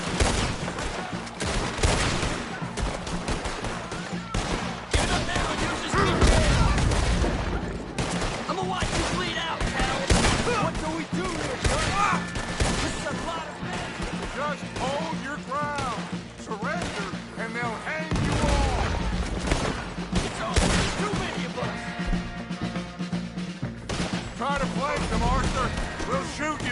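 A Red Dead Redemption 2 battle: dense rifle and pistol fusillades crack over and over, with heavier cannon booms landing among them, while voices shout through the chaos.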